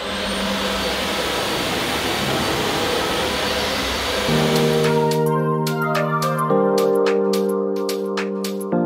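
A Dyson Ball Animal Multifloor upright vacuum cleaner runs with a loud, steady broadband whoosh for about four seconds, then sustained tonal notes like music take over for the rest.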